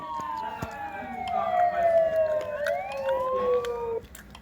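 A fire truck siren wails in the video game RFS, rising and falling tones sweeping across one another, moderately loud, with faint background clatter.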